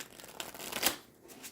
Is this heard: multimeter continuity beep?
no